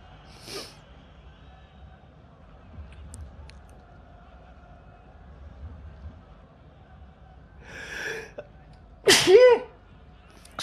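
A single sharp human sneeze bursts out loud and close near the end, preceded by a few faint breathy sounds and quiet background noise, with no talk during the clip.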